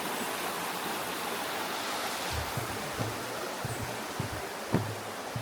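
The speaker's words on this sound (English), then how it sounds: "it is flowing pretty fast actually. To say we've had no rain. There's quite a bit of water coming down this way." A fast-flowing stream on a countryside walk at Dales Dyke rushes as a steady broadband wash of water, close and constant, with a few faint low knocks near the end and no talking.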